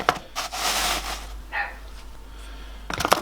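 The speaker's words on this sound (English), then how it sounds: "Dogs are going mad. Excuse the barking." A couple of short dog barks ring out at the start and again near the end, with scraping and handling noise in between.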